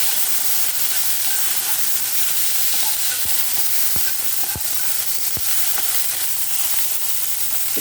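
Curry leaves sizzle and crackle steadily in hot cooking oil, a continuous close frying hiss broken by a few sharp pops.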